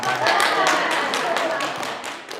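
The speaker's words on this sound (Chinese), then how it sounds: "给他拍拍手好不好？" Audience at a church Saturday gospel tea gathering clapping hands, a run of loud, evenly spaced claps close by, with a voice talking over the start of the applause.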